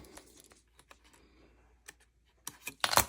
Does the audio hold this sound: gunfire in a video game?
no